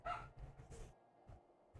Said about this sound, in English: My dog has a lot to say.